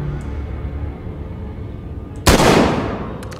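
A single sharp gunshot blast in The Walking Dead Survival Instinct zombie shooter game, loud and sudden after a stretch of low ambient noise, with a brief decaying tail.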